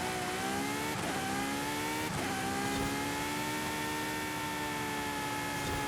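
Forza Horizon 5 car engine drones steadily and loud with throttle modulation, pitch dipping briefly twice as the driver lifts off, then holding a sustained high rev, with no talking.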